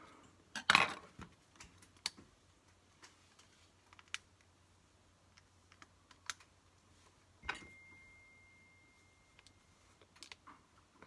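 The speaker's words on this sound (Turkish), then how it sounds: "Bir tane cıvatamız kalmış. Onu da sökelim." A small bolt is unscrewed from a Casper Via M1 laptop, heard as sparse, faint clicks and ticks in a quiet room, with one sharper rattle near the start and another midway.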